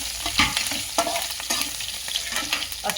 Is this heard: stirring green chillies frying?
yes